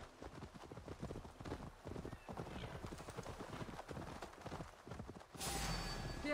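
Steady clip-clop of horse hooves trotting at a brisk, even rhythm in the video game Assassin's Creed Valhalla, close and moderately loud, ending with a burst of louder noise; no talking.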